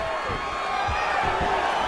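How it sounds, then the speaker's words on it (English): A live crowd at a UFC Apex fight roars and cheers steadily as people get back to their feet, a dense, continuous wash of noise with a few scattered shouts and whoops rising above it. "big pop from the crowd as they get back to their feet"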